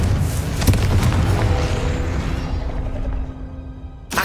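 A Confringo blasting spell detonates in a Harry Potter game set at Hogwarts, a loud, broad boom that rolls out and slowly fades over several seconds, ending with a brief fresh burst.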